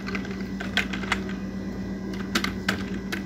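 Rapid clicking of a computer keyboard as iptables commands are entered in Kali Linux, with uneven bursts of keystrokes, some sharper than others, close up over a low steady hum.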